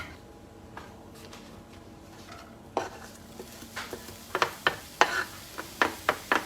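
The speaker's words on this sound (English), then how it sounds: "So we just need to fry the onions first." Onions fry and caramelize in a pan for a Japanese beef burger. A quiet background sizzle sits under sharp, rhythmic clicks and scrapes from a utensil stirring against the pan, and these grow more frequent toward the end.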